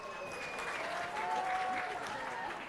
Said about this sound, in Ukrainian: І бачимо оплески від місцевих болівальників